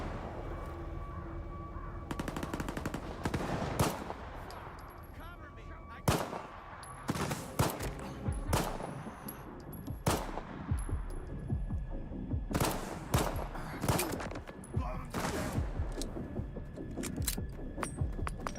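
Gunfire in the shooter game STALKER 2, heard as repeated sharp shots and rapid bursts over a constant rumbling background, spread through the whole stretch at a moderate level.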